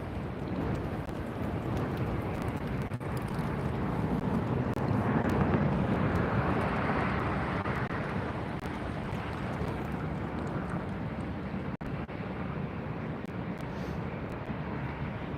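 A Delta airliner is towed by a tug at LAX, heard as a continuous broad roar of aircraft and airport noise that is loud and steady throughout, with some wind buffeting and no speech.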